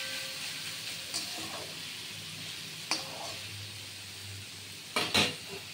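Papaya frying in a pan makes a steady, quiet sizzle with a few sharp clinks and scrapes of stirring scattered through it.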